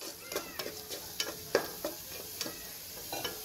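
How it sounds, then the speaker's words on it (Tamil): Paneer frying in a pan with pepper gives a soft, steady sizzle broken by repeated sharp scraping taps of a spatula, a dozen or so stirring strokes at a steady pace, close and clear without speech. "இப்போ லைட்டாக அதில் பெப்பரும் போட்டுட்டு நம்ம கோல்டன் ப்ரௌன் வர அளவுக்கு ஃப்ரை பண்ணி எடுத்துடலாம்."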